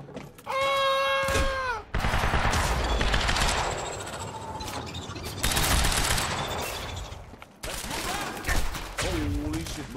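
Gunfire crackles through a firefight in the Quantum Break video game, set in an industrial area, with dense bursts of shots and loud impacts over most of the stretch. Tonal game sounds and voices break in at the start and near the end.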